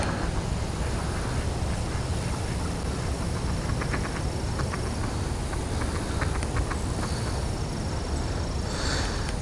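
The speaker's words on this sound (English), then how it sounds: "There's some ducks over there." Ducks quack from across a park lake among falling autumn leaves, short repeated calls that sound distant and soft against a steady outdoor wash of wind and faint insect chirps.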